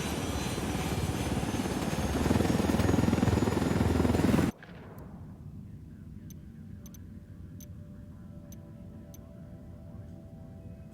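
A helicopter in the video game Ghost Recon Wildlands gives a loud, close rotor roar for about four seconds, then cuts off abruptly, leaving quiet game ambience with faint ticking clicks.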